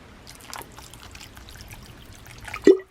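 Drinking water poured from a container into a Magma cooking pot while making dinner, a soft trickling stream that ends in a short, louder splash near the end, close by and without talk.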